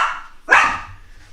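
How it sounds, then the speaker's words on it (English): A dog gives one sharp, close bark at home, with a fading whine before it and a quiet tail after. "He hears something and then he just barks at it."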